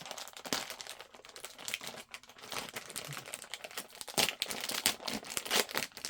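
Close crinkling and crackling of a plastic Korean snack wrapper being pulled open by hand, with irregular bursts of rustling and a few sharper tearing crunches.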